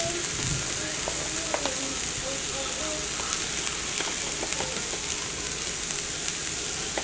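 Vegetables for shrimp scampi sizzle in a frying pan with a steady, dense crackle close by, and occasional stirring scrapes come through it.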